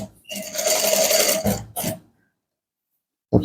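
A sewing machine top stitches around a welt pocket on chinos, running in a close, fast stitching burst for over a second, then a short second burst before silence and a brief final clack.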